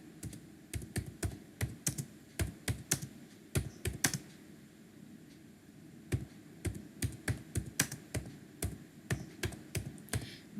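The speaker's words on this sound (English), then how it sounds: "I am just clicking the enter key" Computer keyboard typing in a word-processing session, with sharp, close key clicks arriving in quick irregular bursts and short pauses, including heavier single presses like an enter key, over a faint steady room hum.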